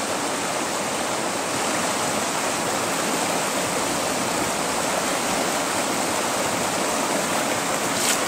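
Water rushes continuously over the tray of a River Bed Hog sluice as it is rinsed, a loud, steady close-up gush like a stream, with no talk.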